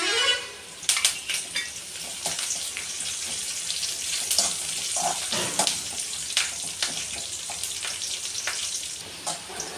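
Egg curry frying in a pan, a close continuous sizzle with sharp crackles and occasional spoon scrapes as it is stirred, steady throughout.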